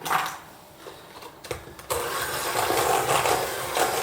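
Choux pastry dough being mixed after an egg is added, a steady whirring mechanical mixer drone that starts abruptly and runs on loudly, preceded by quieter rattling.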